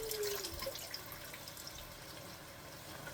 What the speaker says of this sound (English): So I strain off the water properly.